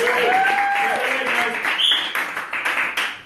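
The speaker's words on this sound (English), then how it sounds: "Give him a round of applause to get it started." An improv theater audience at a graduation show applauds, brisk clapping that swells and then thins out over a few seconds, with voices mixed in.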